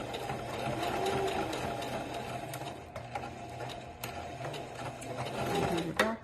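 A sewing machine back stitching fabric for a bunny, a close, continuous mechanical whirring with rapid rhythmic needle clatter that slows and stops with a click at the end.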